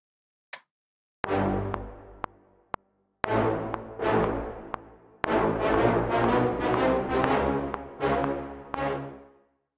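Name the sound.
staccato brass playing octave notes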